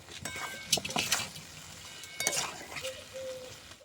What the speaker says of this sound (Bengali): ভিজে রাখা আলুগুলো দিয়ে নিচ্ছি আলুগুলো দিয়ে আরও বেশ কিছুক্ষণ কষিয়ে নেবো